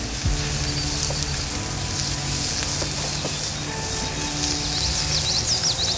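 Eggs over medium and lamb sausage fry over an open campfire on a kayak camping trip, giving a steady close crackle and sizzle with faint outdoor ambience and birds.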